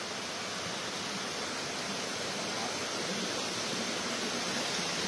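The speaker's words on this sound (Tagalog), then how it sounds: "May falls dito, eh. Ayun yung falls, oh." A forest waterfall makes a steady, dense roar of falling water with no break, loud and close, with no voices.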